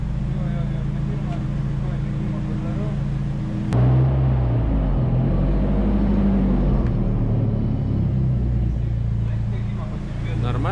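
A Nissan S13 with an SR20DET engine runs on a dyno, a deep steady rumble and drone that steps up sharply partway through, with people talking over it.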